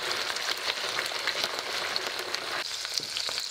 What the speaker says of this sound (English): I've heated some oil here and now it's time to roast the roast from all sides